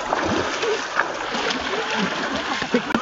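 Water splashes and sloshes in a swimming pool, close and continuous, with choppy bursts as people move through it and voices faintly mixed in.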